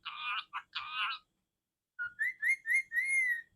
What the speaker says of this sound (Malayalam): തത്തമാളൂ തത്തമ്മ ഉച്ച വന്നോ?